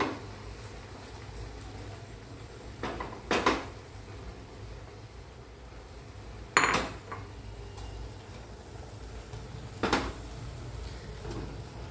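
A large ladle stirs flour batter for alu vadi in a pot over a low gas flame, giving three sharp clinks against the metal side spaced a few seconds apart over a steady low background hum.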